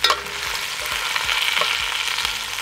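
Vegetables frying in hot oil beside garlic heads for braised beef cheeks, a close, continuous loud sizzle with soft knocks of stirring and no voices.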